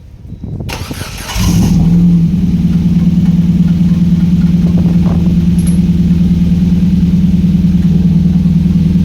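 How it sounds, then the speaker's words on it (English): Ford Figo car engine cranking and catching, then settling into a steady, loud, close idle with a constant low hum after a radiator replacement, no talking. "now we need to start the car to get out all the air"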